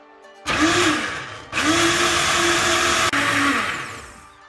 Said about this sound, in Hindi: अब मैं यहाँ इसे करूँगी ब्लेंड और तकरीबन 1 मिनट के लिए आपने इसको ब्लेंड करना है